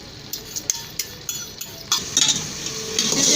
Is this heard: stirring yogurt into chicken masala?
yes